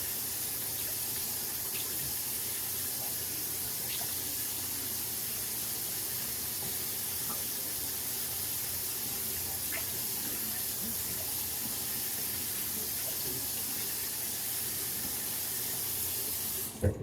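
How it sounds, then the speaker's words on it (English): Tap water runs steadily from a faucet into a sink to rinse a safety razor, a continuous close hiss and splash lasting throughout with a few faint clicks and no speech. "So rinsing with the cool water,"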